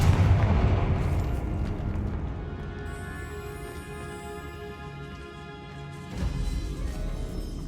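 Confringo spell explosion in Hogwarts Legacy, a heavy blast at the start that rumbles and fades into lingering ringing magical tones, followed by a second crackling burst near the end.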